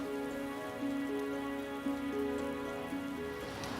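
Rain falling outdoors on the Clifton Suspension Bridge over Bristol, a steady patter on surfaces with sustained tonal hum layered on top.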